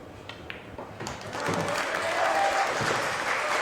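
Audience at a billiards match applauding a pool shot during a last-16 Iowa shootout, scattered claps at first swelling into sustained, moderately distant applause that holds steady to the end.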